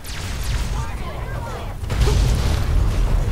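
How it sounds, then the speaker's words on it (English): Mortar launches and booming explosions from the Fallout 3 video game, rumbling low and heavy, swelling louder in the second half with mechanical clatter underneath. "They're launching mortars at us."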